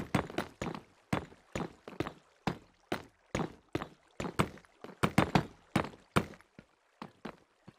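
Bass notes from a Minecraft game play in a steady, repeating rhythm of short, plucked, percussive hits, each decaying quickly, clear and alone with no talking.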